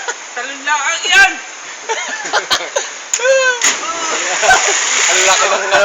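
Someone jumps into water with a sharp splash, followed by sloshing and more splashing while people shout and talk nearby.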